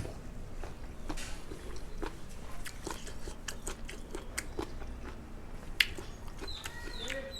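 Someone bites into and chews stir-fried jellyfish with holy basil, giving close, moist crunches and squelchy chewing over steady background noise, with a faint bird chirp near the end.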